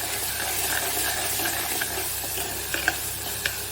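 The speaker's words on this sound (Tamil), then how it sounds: "கொஞ்சம் நேரம் வதங்கட்டும், சிம்மில் வச்சிடலாம்" Onion and garlic sauté in a pan on low heat for a vathakuzhambu, giving a steady close sizzle with a few light scraping stirs near the end and no talking.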